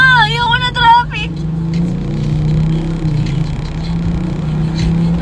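Car engine hum and road rumble in slow traffic, steady and close, with a voice speaking briefly at the start before the low drone carries on alone.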